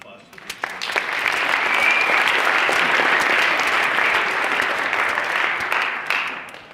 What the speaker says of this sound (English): so let's give another round of applause to them.